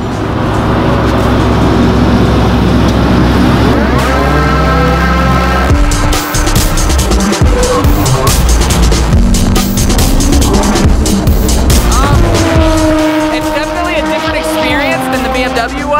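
A Volkswagen Golf R, tuned by APR, driving hard on a race track, loud engine note climbing through gears with shifts and tire noise, close and continuous, with people talking faintly underneath.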